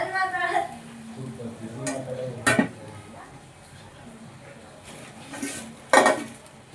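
Coriander rice being mixed in a pan with the stove off: a ladle scraping and clanking against the metal, with a couple of sharp clinks standing out, while someone talks over it.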